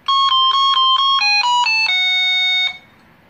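An electronic intercom doorbell plays a bright multi-tone chime melody, loud and close, then stops abruptly into quiet.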